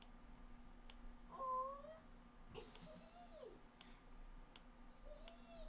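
A cat gives a couple of short, faint meows with quiet gaps between them. A steady low hum and occasional soft ticks sit in the background.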